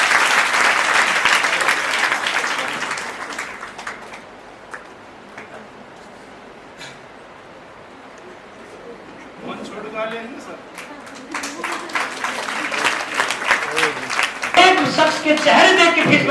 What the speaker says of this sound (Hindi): तालियां बजाए हुए सबको